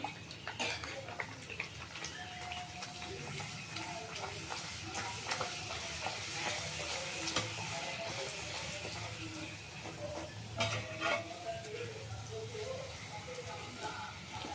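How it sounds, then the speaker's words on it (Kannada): Puris frying one at a time in hot oil: a continuous busy sizzle and bubbling throughout, with occasional clinks and stirring sounds, fairly close and steady. "ನಾನು ಹಾಲನ್ನ ತೆಗೆದು ಪಕ್ಕಕ್ಕೆ ಇಟ್ಟು ಪೂರಿ ಸುಟ್ಕೊಳ್ತೀನಿ ಈಗ ನಾನು ಒಂದೊಂದೇ ಪೂರಿ ಹಾಕೊಳ್ತಾ ಇದ್ದೀನಿ"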